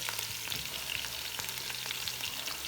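Dried beans drop into tomato paste frying in a pan, giving a dense, busy sizzle full of quick crackles and spatters, close and loud throughout.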